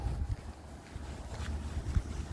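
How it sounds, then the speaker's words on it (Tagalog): Gusty wind buffets the microphone outdoors, low rumbling bursts rising and falling irregularly with a faint watery hiss behind. "Ang hangin may magdala og makapabugnaw og maayo."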